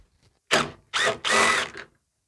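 A ratchet turning a 10 millimeter socket while servicing a Honda Harmony HRS216 lawn mower, heard as a few loud, close bursts of rapid clicking with short pauses between strokes.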